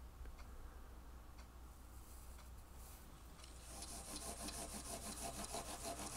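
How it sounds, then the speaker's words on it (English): Wet/dry sandpaper rubbed over the frets of a guitar with a rosewood fingerboard and stainless steel fret guard, a steady faint scratchy rasping with rhythmic back-and-forth strokes growing slightly stronger near the end. "I just grasp a little harder with this wet, dry sandpaper, all from Stumac"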